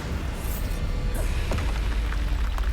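A Bombarda blasting spell goes off in a Harry Potter video game as a deep, rumbling boom that swells midway and then rolls on as a sustained low roar, with no voices over it.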